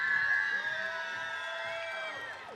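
An audience at the FIRST LEGO League UK and Ireland Final gives a big cheer, a sustained burst of shouting and high whoops from many voices that tapers off at the end.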